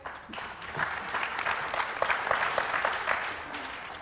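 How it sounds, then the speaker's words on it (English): A seated audience at a university panel on food and regenerative agriculture applauds, a full, sustained patter of many hands that swells slightly in the middle and then tapers, heard from within the hall with no talking over it. "That might be the first line of applause I've ever heard for regenerative agriculture ever"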